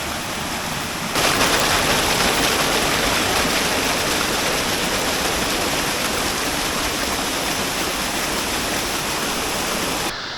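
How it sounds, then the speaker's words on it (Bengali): Chingri Jhorna, a tall waterfall in Bandarban, gives off a loud, continuous roar of crashing water. The roar surges up strongly after a quieter opening second and holds steady. "এই হচ্ছে চিংড়ি ঝর্ণা দেখা যাচ্ছে বিশাল উঁচু এক"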